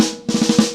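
Drum five-stroke roll rudiment built from double strokes, a quick burst of about five close, even snare-like hits after a brief pause, played alone at moderate loudness.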